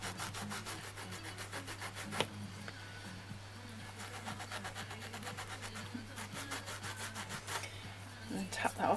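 A metal blank is rubbed with a sanding block and sandpaper in steady back-and-forth strokes, a close, even rasping rhythm over a low constant hum, ending with a few louder scrapes.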